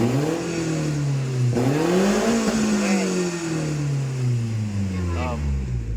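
An APV car's Valvetronik exhaust in racing mode revs loudly, its engine note rising and falling in several sweeping surges that ride over a steady idle rumble, close to the microphone.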